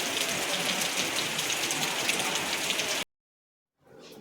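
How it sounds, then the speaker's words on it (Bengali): Heavy rain pours during a bus ride in Munnar, a dense, steady hiss that stops abruptly after three seconds. A faint noise creeps back in after a brief silence. "বাস যখন চলছে তখনও প্রবল বৃষ্টি।"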